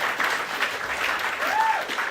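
A comedy club audience applauding during a stand-up roast set: a steady wash of clapping from a crowd that lasts the whole short stretch, fairly close and full.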